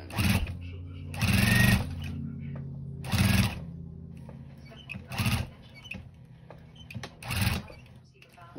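A sewing machine stitching a quilt-as-you-go denim blanket whirs in several short, loud bursts with pauses between, close up, while a person talks throughout.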